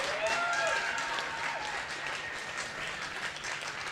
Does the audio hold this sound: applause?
yes